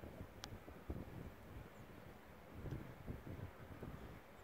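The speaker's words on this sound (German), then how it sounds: "wo der Wind gerade den Schnee von den Dächern bläst." Wind blowing snow off rooftops during a heavy snowstorm in Mittersill, Austria, a faint, steady, rushing low roar with soft gusts and no talk.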